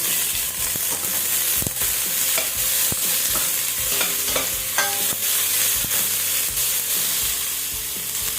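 Ginger and tomato frying in a pan: a loud, close, continuous sizzle broken by repeated stirring scrapes and clicks, with no talk.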